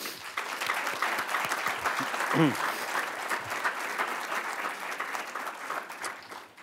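Audience applause at a Hall of Fame banquet, steady dense clapping throughout at moderate level with a few voices briefly audible in the crowd.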